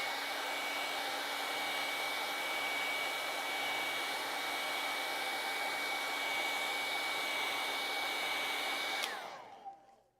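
A hair dryer blows at a steady high pitch, drying acrylic paint on a lake landscape canvas, close and constant for about nine seconds before switching off and whining down, with no talking.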